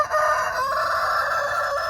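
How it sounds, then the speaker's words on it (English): A rooster crows loudly and close, one long sustained call filling the whole moment, with no voices. "I don't want to stand there with that rooster."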